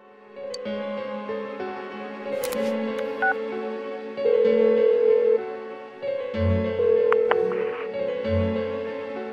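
A phone dialing a call in Persona 4 Golden, with a series of steady dual-tone beeps and held ringing tones in a clean, evenly paced sequence with no voices.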